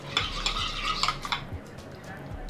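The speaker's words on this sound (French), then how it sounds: "On va mélanger." A spoon stirs a homemade face mask mixture containing lemon juice in a small bowl, producing quick light clinking and scraping taps near the microphone, with no talking.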